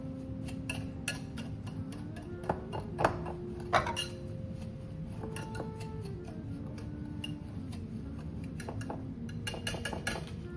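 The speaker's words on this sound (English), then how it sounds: "I'm just getting all the just lumps out of the brown sugar before I put the eggs in." Brown sugar is broken up in a bowl before eggs go in, giving irregular scraping and clinking of a utensil against the bowl, with a few sharper taps standing out over a steady low background hum.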